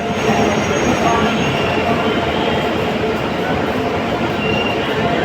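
A WAP-7 electric locomotive hauling a passenger train through a station on the Sealdah division, its steady loud rumble and rolling wheel noise filling the whole stretch without pause.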